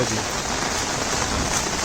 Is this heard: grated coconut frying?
no